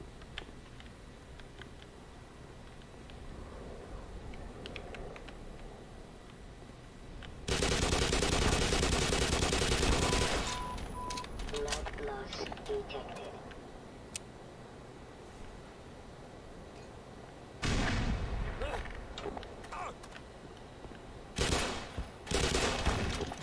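Sustained bursts of gunfire from a sniper engagement in the Black Mesa video game, a loud dense barrage lasting several seconds, then quieter stretches and further sharp bursts near the end.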